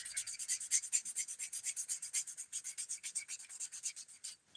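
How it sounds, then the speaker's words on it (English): A sponge nail buffer with a 100 grit side rubs briskly across fingernails in quick, regular back-and-forth strokes, a close, dry, raspy scratching with no talk. "I love this sponge buffer because it's just like a file"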